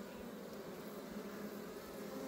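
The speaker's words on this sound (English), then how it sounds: "I'm just going to shake these bees off." Honeybees from a long-neglected hive buzz in a steady, dense hum as they are shaken off a comb-laden frame, a close and continuous drone with no talk over it.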